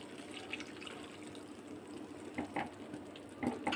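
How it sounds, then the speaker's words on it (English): Milk is poured into a pan of melting cheese slices for a pav bhaji cheese fondue, making a soft trickling, splashing fill with a few faint drips near the end. "And now add in the milk."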